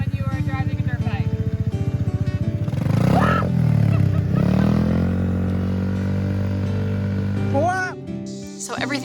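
A dirt bike engine running close by, a steady rapid putter that rises into a revving whine and then settles, with a voice speaking over it.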